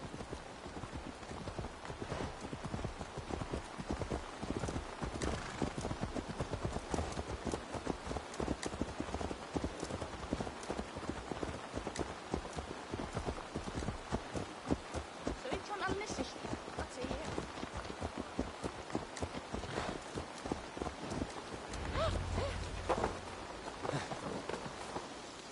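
Horse hooves clip-clop at a steady trot in the video game Assassin's Creed Valhalla, continuous and fairly quiet, with rain-like ambience and a voice talking over them.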